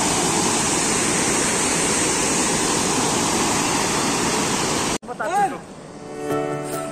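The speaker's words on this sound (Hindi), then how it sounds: "लफ्री वॉटरफॉल, लफ्री वॉटरफॉल देख सकते हैं आप।" Steady, loud roar of Lafri Waterfall at lowered water level fills the first five seconds, then cuts off abruptly to quieter sounds with a voice.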